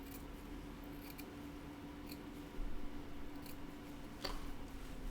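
Scissors snip at a two-color dubbing brush baitfish fly as its shape is trimmed, giving a few quiet, close clicks and cuts spread over a soft background hiss.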